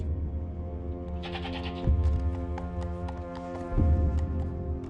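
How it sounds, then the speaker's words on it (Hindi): A goat bleats loudly and close by in two long, wavering calls over a steady background drone, with no talk. "ये बकरा है?"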